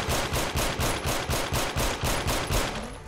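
Automatic gunfire in Fallout 4, a steady run of about a dozen rapid, evenly spaced shots with booming low ends, loud and close, continuing without any talk over it.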